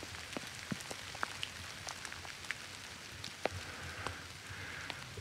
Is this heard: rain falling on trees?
yes